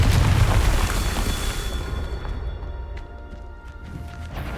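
A Confringo fire spell in Hogwarts Legacy sets off a heavy, booming explosion that starts loud and rumbling, then fades into a lingering roar with scattered debris crackles.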